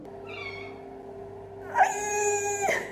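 A domestic cat meows indoors near an oven being preheated, giving a thin, faint mew first, then a louder, drawn-out plaintive meow that rises and breaks off abruptly.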